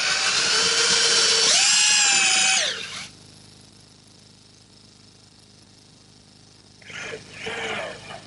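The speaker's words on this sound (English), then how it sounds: "The last hole that I have to drill is through the end and the foot." A power drill bores through a wooden foot and end piece, whining loudly for a few seconds with pitch sagging under load, then dropping to near quiet before a shorter second burst of drilling.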